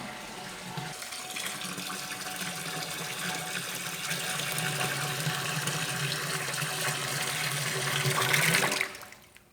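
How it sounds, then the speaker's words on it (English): Texas spring water is poured into rum to bring it down toward 80 proof, a steady, close, continuous splashing pour that holds for about nine seconds and then cuts off abruptly. "We've got our Texas spring water here, and literally just dumping it in."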